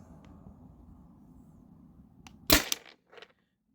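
A single sharp, loud pop from a modified Byrna TCR launcher firing a 9.88 gram PVC-coated steel ball, with a brief clatter just after, then quiet room tone.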